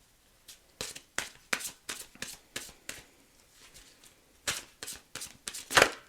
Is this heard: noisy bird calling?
no